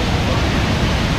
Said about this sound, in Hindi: इस तरह का वाटरफॉल पुल के नीचे से इस तरह से ये कभी नहीं देखा।